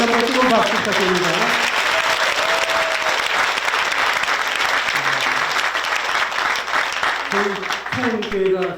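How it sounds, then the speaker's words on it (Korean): Loud, sustained applause from an audience at a Korean church seminar fills the room continuously, with voices speaking over it at the beginning and again near the end. "다시 한번 뜨거운 박수 부탁드립니다"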